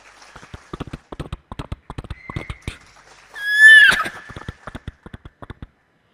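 A voice mimics a horse's whinny, a rising, quavering neigh in the middle, framed by rapid rhythmic clicks imitating hoofbeats before and after.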